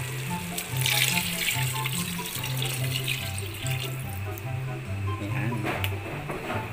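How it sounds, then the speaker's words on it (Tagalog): Water, about 500 ml, is poured into a cooking pot of partly cooked pork, a steady splashing, running stream heard up close against a low background hum throughout. "Lalagay na natin tong 500 milliliters na tubig."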